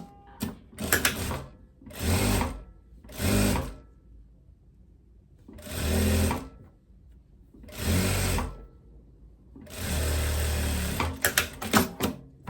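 A sewing machine stitches a seam on a loose viscose romper in about six separate bursts of whirring motor and needle chatter, each lasting roughly a second. Short quiet pauses fall between the runs, with no talking.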